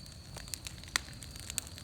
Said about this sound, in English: There's the tractor and my bonfire.